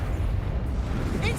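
An Expulso spell explosion from a video game gives a short, dense, rumbling burst of blast noise that lasts about a second and a half, mixed with game sound and voice.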